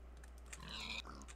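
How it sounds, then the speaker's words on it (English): Pigs in the Minecraft video game give faint grunting oinks over a low steady hum, with a few light clicks that sound like keyboard typing. "So many pigs."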